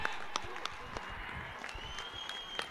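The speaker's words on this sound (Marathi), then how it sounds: "दोन्ही टीम साठी परत एकदा जोरदार टाळ्या" Crowd clapping for both teams at a village cricket semi-final, scattered sharp claps and cheering at moderate distance under a commentator's talk.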